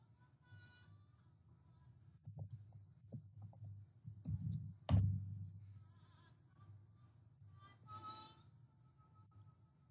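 Sparse, quiet clicks of a computer keyboard as code is typed, with a few scattered keystrokes and one sharper, louder tap partway through.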